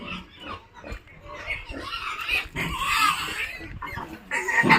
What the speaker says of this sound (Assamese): পোৱালি আছে ৰাণী ক্ৰছ পোৱালি আছে এইবিলাক ৰাণী হয় ইফালেও আছে পোৱালি